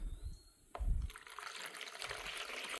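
Distilled water is poured for mixing plaster to make a pottery mold, with a soft, steady trickle and splash that starts after a brief thump and continues quietly without talk.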